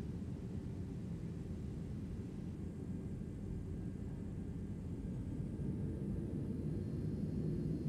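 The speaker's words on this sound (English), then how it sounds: "I hope you enjoy the takeoff out of Auckland" A Zibo Boeing 737-800 taking off from Auckland in X-Plane 11 gives a steady low engine roar and rumble, even and continuous with no voices.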